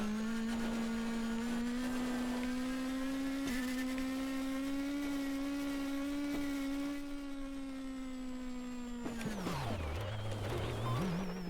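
A rally car engine in a game held at a strained, steady high drone that whines through a constant pitch before abruptly dropping and sputtering near the end, with no voices.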